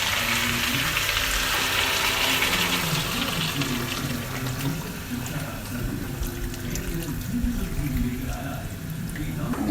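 Chicken curry masala sizzles in a village-style Assamese kitchen as water is poured in, a continuous splashing hiss over the frying, loud and close, with faint voices underneath.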